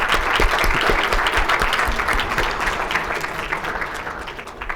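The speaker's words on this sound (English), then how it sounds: "I'd like to give them actually a round of applause." A loud round of applause from the audience at a high school pitch competition, dense clapping at full strength that slowly fades over about five seconds.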